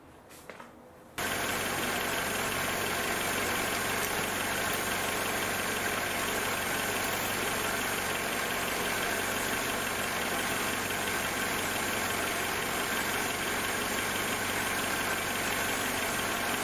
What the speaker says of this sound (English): so have to get the engine running again